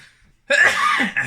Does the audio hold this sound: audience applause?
no